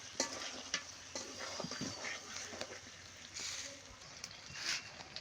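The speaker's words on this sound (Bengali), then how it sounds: "অনেকক্ষণ কষানোর পর এরকম করে আর একটু ভাজা ভেজে নিতেছি" Layer-hen chicken curry frying in a pan after long village-style braising, with steady sizzling and the scrape of a spoon stirring the meat in irregular strokes at close range.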